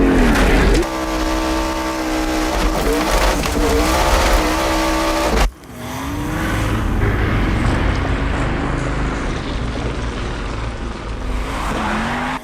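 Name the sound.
rally car drifting through a corner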